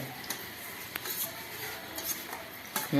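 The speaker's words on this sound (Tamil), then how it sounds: "இந்த மாதிரி ஸ்மாஷ் பண்ணுறதுக்குன்னு விற்கிறது கடையில் இதை வாங்கி மசிச்சோமானாக்கா நல்லா குழஞ்சு மசிஞ்சு விடும்" Metal masher pressing ingredients for lemon leaf rasam in a vessel, giving faint scattered clinks and soft taps of utensil against metal over a quiet background, with no talking.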